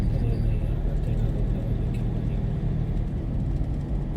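Steady, loud road rumble from inside a car overtaking on the road between Jaisalmer and Mount Abu, a continuous engine and tyre drone with no breaks.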